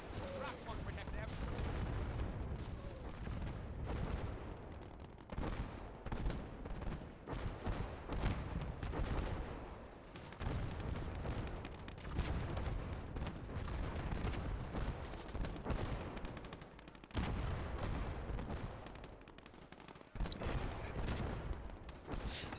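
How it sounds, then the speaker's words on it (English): Repeated heavy booms and artillery fire in a retro war video game mod, with a bomb strike pounding over a constant rumbling battle din, loud and sustained, with talk mixed in. "We received permission to carry out a bomb strike."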